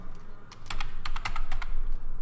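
Fingers type on a computer keyboard, a quick, uneven burst of crisp, close keystroke clicks with a brief pause in the middle.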